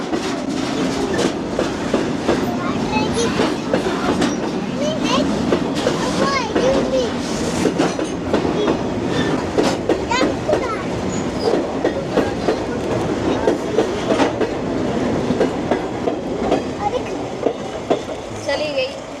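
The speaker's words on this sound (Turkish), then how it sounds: "long train, big train. Too much train." A long train rumbles past close by in a tightly packed residential neighborhood in India, its wheels clacking rhythmically over the rails, with voices and background noise mixed in throughout.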